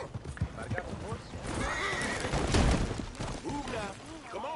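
A horse neighs and whinnies over clattering galloping hooves in Red Dead Redemption 2, with voices talking over it; loud and close, rising to a peak midway.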